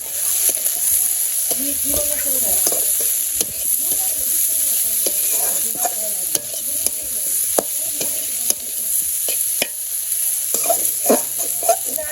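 Potatoes stir-fried in a pan with salt, turmeric and chili, a loud close sizzle with repeated rhythmic spatula scrapes and clacks throughout, and faint voices in the background at times.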